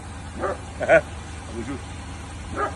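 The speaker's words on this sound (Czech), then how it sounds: "že se štěká pes." A dog barks from inside a car, a few short yips spaced about half a second apart, fairly faint and mixed with someone speaking briefly and a low engine hum.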